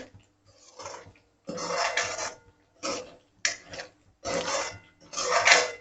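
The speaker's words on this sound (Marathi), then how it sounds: "इथे ग्रेव्हीला हलवत हलवत चांगलं तेल सुटेपर्यंत शिजवून घ्यायचं आहे" Thick gravy cooking in a pan as a spoon stirs it, heard as separate bursts of scraping and clinking against the metal with short pauses between strokes, close and moderately loud.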